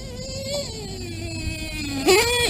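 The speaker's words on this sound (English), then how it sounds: "this R5R is a badass nasty engine" A nitro RC car with a Reds R5R engine runs with a high, buzzing whine that wavers and dips, then rises sharply as the engine revs near the end.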